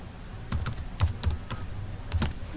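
A word typed on a computer keyboard into a PowerPoint text box: about a dozen crisp key clicks in uneven short bursts, close and clear, with no talking.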